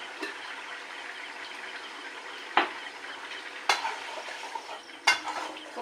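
A curry simmering and sizzling in a pan after garam masala goes in, a soft steady fry with three sharp clinks of the spoon against the pot, close and without speech.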